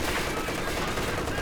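Machine-gun suppressing fire in Company of Heroes 2, a dense, unbroken rattle of rapid shots that holds at steady loudness throughout the brief burst.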